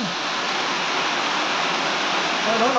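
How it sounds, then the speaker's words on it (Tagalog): Heavy rain pours outdoors among donkeys in a dense, unbroken roar, loud and steady throughout, with a faint voice surfacing near the end. "Lakas ng ulan!"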